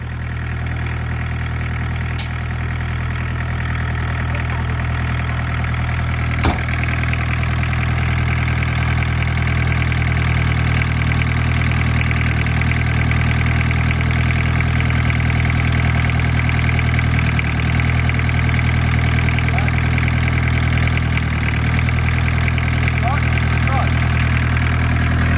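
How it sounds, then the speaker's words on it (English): An old barn-find Volkswagen Caddy van engine idles steadily and loudly throughout with a constant low rumble, a brief click near the start, and faint voices beneath. "So the steering lock is off and the engine runs"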